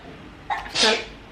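A single sharp human sneeze, loud and close, with a brief intake burst just before it.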